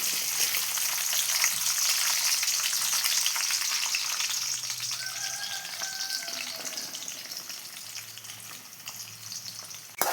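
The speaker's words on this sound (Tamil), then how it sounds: "இப்போ நம்ம வெங்காயம் தான் பொரிச்சு போகிறோம் பிரியாணியில் போடுறது." Sliced onions fry in hot oil for a chicken biryani, a continuous bright crackling sizzle, close and fairly loud, with a faint tonal clink midway and no talking.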